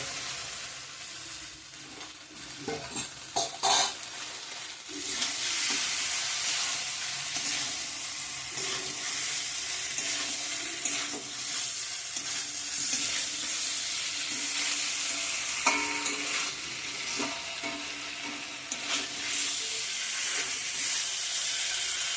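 Fried cauliflower and potato pieces go into hot oil in a pan, with a strong, steady sizzle and hiss after a short rustle of them being added; a few brief clatters sound over the constant frying, and nobody speaks.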